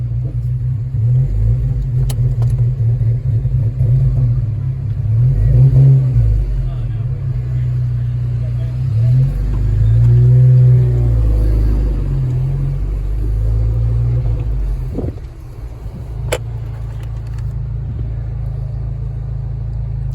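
A Volkswagen GTI with a GT35R ball bearing turbo and an upgraded intercooler accelerating on the road, heard from inside as a loud, steady low engine drone with shifting pitch, then a brief dip before it continues.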